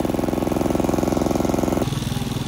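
Small engine on a farm machine warming up, a close, loud, evenly pulsing chug that shifts to a lower, rougher beat partway through, heard alone.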